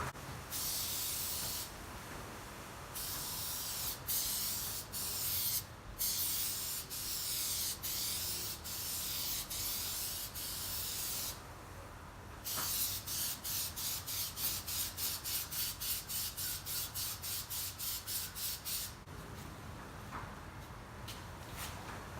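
Clear coat sprayed onto a car from a spray gun in a heavy final coat: steady loud hissing bursts, with pauses between passes and a run of rapid short sprays near the end.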